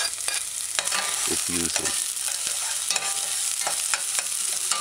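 Diced scallion or chive sautés in a pan for a broccoli and broad bean vegan stew: a dense, even sizzle with a few spoon strokes and knocks, plus a brief spoken phrase.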